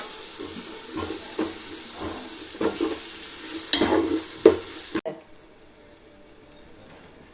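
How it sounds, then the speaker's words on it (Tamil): Chopped tomatoes sizzling in a pan of chicken biryani base while being stirred, a steady close frying hiss with scraping stirs and people talking over it, cutting off abruptly near the end. "தக்காளி போட்டு சிம்மில் வச்சு ஒரு 1 நிமிஷம் அப்படியே வச்சிடணும்."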